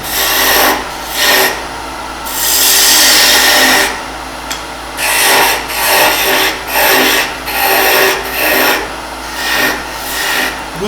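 Woodturning lathe with a gouge shaping the handle of a wooden spinning top, a loud repeated rasping cut coming in rhythmic bursts of one to two seconds, close and steady with no talk.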